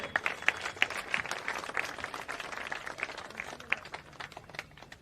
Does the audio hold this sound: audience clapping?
yes